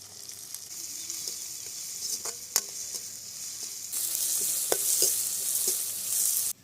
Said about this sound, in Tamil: காய் எண்ணெயிலேயே ஒரு 5 நிமிஷம் வேகட்டுப்பா